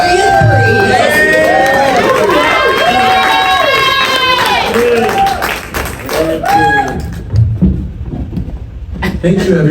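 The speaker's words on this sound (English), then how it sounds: "That was such a great applause." A crowd at a city council candidate event cheers and claps loudly, with many excited voices and shouts layered over steady clapping that fades toward the end.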